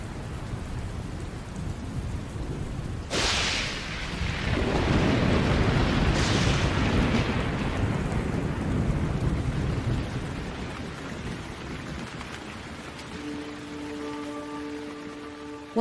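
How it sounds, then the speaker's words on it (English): Heavy, relentless rain pours down across the Liuwa plain in Africa during a thunderstorm, a constant loud hiss broken by two sharp thunder cracks with rolling rumbles, and soft tonal music rises near the end. "The relentless rain gradually begins to fill the pans."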